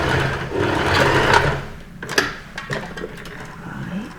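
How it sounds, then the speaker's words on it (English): A sewing machine runs a seam on a Hawaiian shirt, whirring steadily for over a second, then giving short mechanical clicks and stops, close and clear. "I think you'll see it better if I sew it on this side for now."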